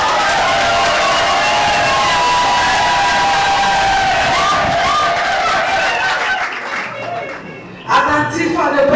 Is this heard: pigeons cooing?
no